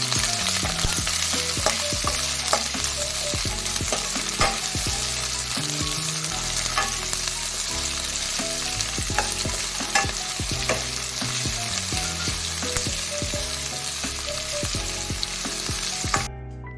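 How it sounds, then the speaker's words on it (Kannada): Onion and capsicum fry in a pan for Gobi Manchurian with a loud, steady sizzle, and a utensil stirring and knocking against the pan in irregular strokes throughout. "ಈಗ ಆನಿಯನ್ ಮತ್ತೆ ಕ್ಯಾಪ್ಸಿಕಮ್ ಹಾಕೊಂಡು ರೋಸ್ಟ್ ಮಾಡ್ಕೊಳ್ಳೋಣ. ಇದನ್ನು ಫ್ರೈ ಮಾಡ್ಕೊಳ್ಳೋಣ."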